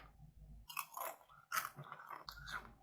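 Close crunchy chewing of a caramel coconut snack, a Thai treat: several bursts of crisp biting and munching with short pauses between, loud and near, with no talk.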